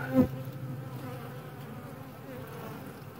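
Honey bees in a nuc hive give a steady, close droning buzz, with a brief louder knock at the start and no speech.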